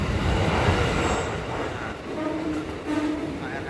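A KRL commuter train rumbles past nearby at Jakarta Gambir station with a steady low roar and rattling wheels, slowly fading a little before swelling again.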